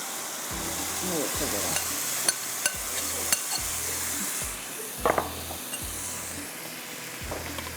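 Chicken masala frying in a pot with whole coriander, turmeric, salt, red chili and bay leaf, under a steady close sizzle, with regular scraping stirring strokes about every second and a few light clinks.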